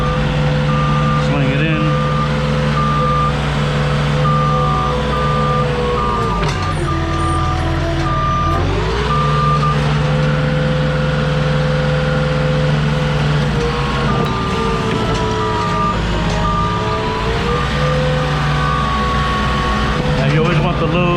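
Forklift lifting and carrying a skid of pellet fuel, emitting steady repeated reversing beeps over a continuous engine drone, with someone talking briefly nearby.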